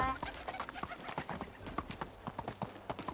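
Horse hooves clip-clop steadily in the medieval video game Medieval Dynasty, a quick regular trotting rhythm up close, with faint bird calls in the background.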